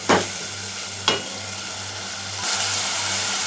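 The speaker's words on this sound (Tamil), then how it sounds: "நல்லா தக்காளி பச்சை வாடை போகிற வரைக்கும் ஒரு 2 நிமிஷம் நல்லா அது வதங்கி வரட்டும்" Chopped tomatoes sautéing in a hot pan give a steady soft sizzle, broken by two sharp stirring clatters near the start and a brighter surge of frying toward the end.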